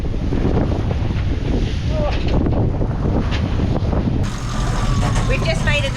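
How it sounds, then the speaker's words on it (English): Strong wind buffets a sailboat off the Great Barrier Reef, a steady loud roar of gusts and microphone wind noise with water wash underneath and a voice talking over it. "it's just getting too strong a wind, and because the wind is so strong, it's pushing us off course."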